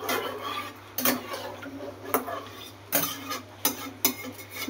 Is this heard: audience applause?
no